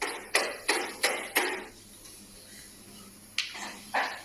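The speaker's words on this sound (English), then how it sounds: "Strange knocking can be heard at the door, but there's clearly no one there." Knocking at a door: four evenly spaced sharp raps, a pause of near silence, then two more knocks, fairly close and alone with no voices.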